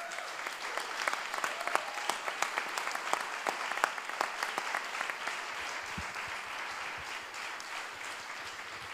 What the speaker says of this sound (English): maybe they deserve at this moment a huge applause